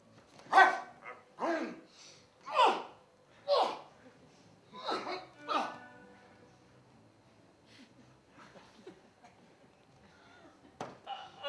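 A dog barks during a stage play performance: about six sharp barks at a regular pace, followed by quieter shuffling and one last short bark.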